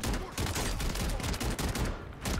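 Rapid bursts of video game gunfire from Call of Duty Warzone, loud and dense, with repeated shots crackling back to back across the whole stretch.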